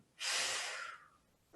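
A single strong, forceful breath during a power vinyasa yoga class, loud and close, rising sharply and fading over about a second, heard alone.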